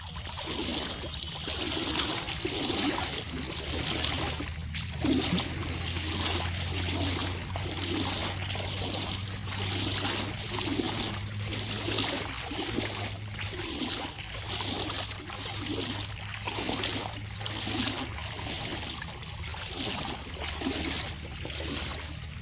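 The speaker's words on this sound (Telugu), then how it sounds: "ఒకసారి నీరు ప్రవాహం చూడండి ఎంత వేగంగా వెళ్తుందో" Fast water rushing steadily through a channel, a continuous loud flowing and trickling wash with a low hum underneath, holding constant throughout with no talking.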